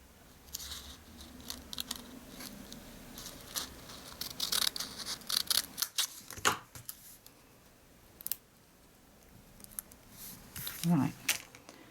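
A strip of cardstock cut with scissors for a paper-craft desk calendar: repeated crisp snips and paper rustles up close, with light handling noises and a short pause midway.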